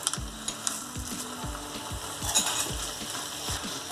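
Popped chickpeas sizzle in a pan of brinjal and potato curry, with a steady frying hiss under a series of sharp, regular spoon scrapes and knocks against the pan, close and moderately loud.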